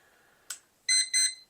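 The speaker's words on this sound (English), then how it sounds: "you get an annoying little beep" A Pomodoro kitchen-style timer gives a short, thin alarm: one brief blip followed by two quick, bright electronic beeps, close and fairly faint.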